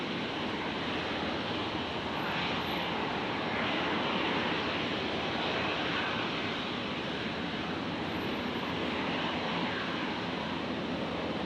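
An aircraft on night approach at Brisbane International Airport produces a steady, loud broadband engine roar that holds for about eleven seconds without pause.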